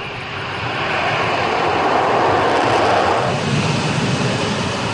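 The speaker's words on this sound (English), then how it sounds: "Once the jet starts moving, it doesn't take long to take off." An F-35B STOVL fighter jet takes off with a loud, steady broadband roar that builds within the first second and holds strong to the end, with no voices heard.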